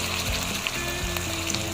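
Canned 555 sardines sizzle and fry in a pan with chili and garlic, giving a loud, steady crackle close up, with faint stirring thumps underneath and no talking.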